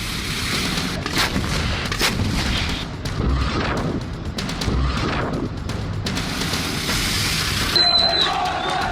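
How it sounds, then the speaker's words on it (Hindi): Artillery shells fired from a military base with tanks and fortified positions, a dense, continuous rumble of repeated booming blasts and crackling reports, loud and layered, with faint voices mixed in. "यानी कि इन शेल्स को यहां से फायर किया जाएगा।"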